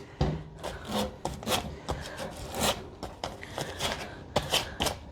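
Rust being scrubbed off metal parts by hand, close rasping strokes in an irregular series of short scrapes with brief gaps, fairly quiet and without voices.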